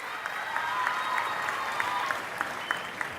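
An audience at a mega parent-teacher meeting claps in steady, fairly even applause for a school donor, moderately loud and continuous with a few sharper individual claps standing out, with no speech.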